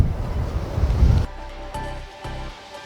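Ocean waves wash up on the beach beside a resort in Umhlanga, KwaZulu-Natal, with a loud rushing surge and wind noise that cuts off abruptly, leaving quieter distant surf.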